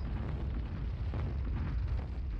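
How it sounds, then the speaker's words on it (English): Artillery explosions in the wargame Squad Battles, a dense continuous rumbling roar of blasts, loud and unbroken, with no voices. "Even more artillery strikes here now."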